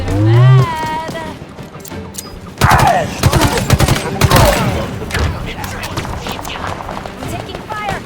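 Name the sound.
gunfire in Halo Infinite video game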